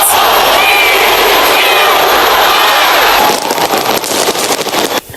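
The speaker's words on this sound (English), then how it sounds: "Dazzling fireworks and lights decorated the skies across the globe." New Year fireworks burst loudly in rapid, crackling succession, a dense roar of pops and bangs that thins out into scattered crackles near the end.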